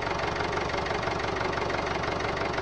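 A tractor engine in the Hand Simulator video game chugs at a steady idle, its low mechanical knocking loud, close and unbroken throughout.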